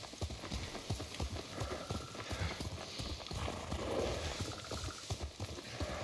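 Horse hooves clip-clop steadily in Ghost of Tsushima as a rider moves along at a walking pace, the rhythmic beats close and continuous over a soft ambient bed.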